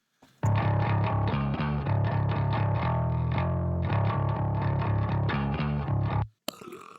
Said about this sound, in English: we've got a little bit of distortion here, a bit of top end distortion